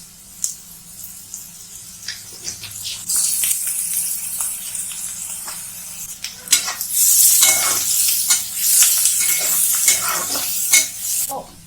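Onions fry in a pan with added salt, sizzling steadily while a utensil scrapes and clatters against the metal in repeated, irregular strokes. The sizzle grows louder and busier toward the end.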